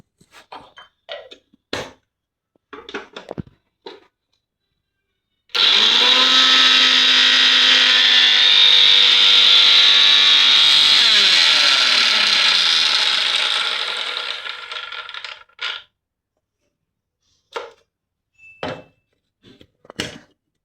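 A mixer grinder crushes roasted prawns with a small shallot and a piece of ginger, whirring loudly and steadily for about ten seconds before winding down, framed by scattered clicks and knocks of the jar before and after.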